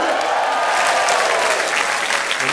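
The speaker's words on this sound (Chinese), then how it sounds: "我们掌声欢迎。" A television dating-show studio audience breaks into loud, sustained clapping, a dense even wash of applause with no voices over it.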